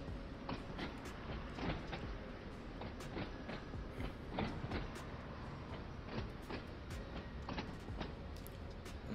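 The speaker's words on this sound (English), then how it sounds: "Let's get a nice outside shot of the train coming into the station." Class 483 electric train on the Island Line pulling into a station in Train Sim World 2, with faint rumbling, rhythmic wheel clicks and clunks over the track, quiet and distant throughout.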